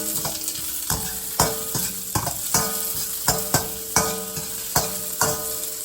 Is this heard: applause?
no